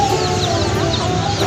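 Colourful dyed chicks at a market, a dense flock cheeping continuously and shrilly up close, with steady background bustle and no gaps.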